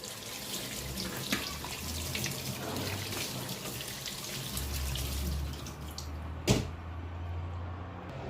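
Jackfruit is washed under running tap water at a kitchen sink. Water streams continuously with splashing, and a sharp knock sounds near the end.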